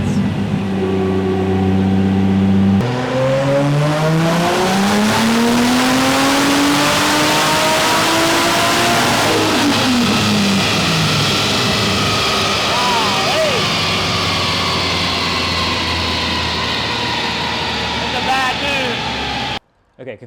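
A Nissan S13 fitted with a 1.5JZ engine revs on a dyno, its tone climbing and swelling through a long loud pull before cutting off abruptly near the end, with voices talking over it.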